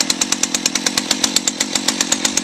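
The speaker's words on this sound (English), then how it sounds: "go ahead fire up your chainsaw" A chainsaw running steadily at idle, its engine chugging in a fast, even rhythm of sharp pulses, loud and close.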